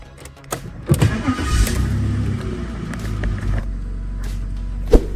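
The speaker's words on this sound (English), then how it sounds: "Just start the car." BMW X5 E53 engine cranking and catching after a brake pad job, settling into a steady mid-pitched idle rumble close by, with a sharp click near the end and no talk.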